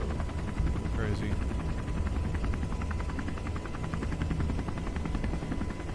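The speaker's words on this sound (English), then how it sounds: "We need helicopter sounds. We've got Black Hawk helicopter mix." Black Hawk helicopter mix in Kerbal Space Program gives a steady close rotor chop and turbine roar that runs the whole time, with a faint voice briefly underneath.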